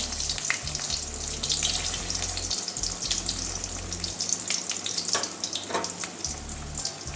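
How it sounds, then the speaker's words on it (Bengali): Boiled, stuffed teasel gourd (kakrol) fries in a pan of oil, a steady close sizzle with a low constant hum underneath and a few brief spits and pops. "যদিও সিদ্ধ করা আছে কাঁকরোলটা তাও আবার একটু ভাজা করে নিচ্ছি"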